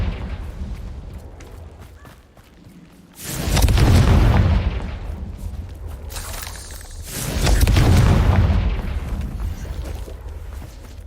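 A fiery Confringo blast spell from Hogwarts Legacy, heard as two loud, deep booming explosions a few seconds apart, each swelling and then rolling away over low rumbling ambience.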